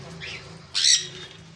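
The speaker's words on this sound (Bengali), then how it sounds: "সানকোনোর সাত মাসের পাখিগুলো" Young seven-month-old sun conure parrots give a couple of short squawks, a brief call followed by a louder, sharper shriek nearby over a faint background hum.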